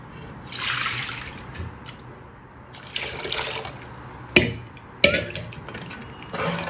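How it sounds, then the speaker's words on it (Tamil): More water splashes into a simmering Madurai-style fish curry, heard as bursts of running, tap-like pouring with a couple of sharp clinks, close up and unaccompanied by speech. "இன்னும் கொஞ்சம் தண்ணி சேர்த்துக்கலாம்."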